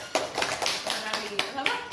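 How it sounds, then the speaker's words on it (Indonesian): An audience in an Indonesian classroom or seminar setting claps in scattered, uneven bursts over steady background chatter, the claps moderately close and not very loud. "Mari kita berikan tepuk tangan kepada"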